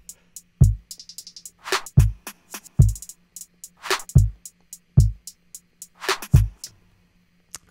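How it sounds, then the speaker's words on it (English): A full drum mix for a song produced in Soundtrap: punchy kicks and snappy hits in a steady, sparse groove with bright tick-like accents, close and dry with clear gaps between hits. "So all of the drums together sound like this."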